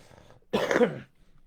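A single harsh cough or throat-clear from someone who is unwell bursts out close by, lasting about half a second amid quiet surroundings.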